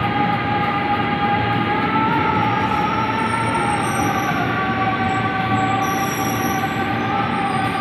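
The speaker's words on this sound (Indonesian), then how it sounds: "Nih dia kereta ke Cikarang ya." A commuter train bound for Cikarang rumbles steadily into Manggarai station, Jakarta, wheels squealing with high, sustained tones over a loud continuous roar.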